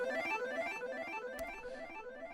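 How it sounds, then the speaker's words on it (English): A musical sample runs through a Soundtoys EchoBoy echo delay, its repeating tonal phrases smearing into overlapping echoes, with a brief sharp click near the middle and a moderate, steady level. "So I added Echo Boy from Sound Toys as well."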